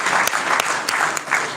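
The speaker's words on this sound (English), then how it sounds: "Big round of applause." Audience applause at a GOPIO conference in Malaysia, a steady, close wash of many hands clapping with a few sharper claps standing out, filling the whole moment without speech.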